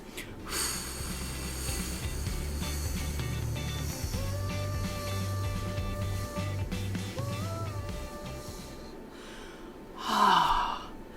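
One person does a deep breathing exercise, finishing with a single audible breath near the end that rises briefly over soft, steady background music.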